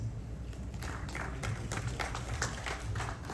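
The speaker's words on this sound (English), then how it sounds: "Round of applause for Joeta Gonzalez" Audience applause at a boxing press conference in Los Angeles, a dense, steady patter of many hands clapping at moderate distance throughout, with no speech over it.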